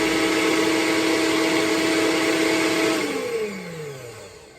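Electric hand mixer whirring steadily at its highest setting, a loud close mechanical whine that holds level, then slows and falls in pitch as it winds down.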